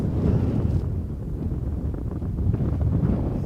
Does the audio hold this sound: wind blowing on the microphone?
yes